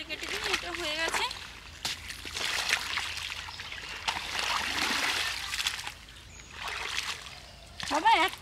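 Water splashing and trickling as hands are washed in a kitchen while making patishapta pitha, intermittent close splashes with a voice sounding in the background.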